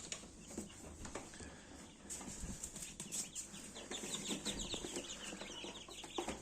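Newly hatched chicks in an opened incubator give dense, overlapping high-pitched peeping, steady and close throughout, with rustling and light fluttering beneath.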